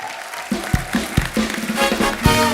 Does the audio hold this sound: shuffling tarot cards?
no